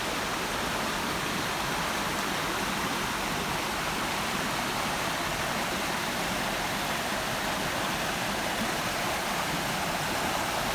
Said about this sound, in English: this is Buck Creek.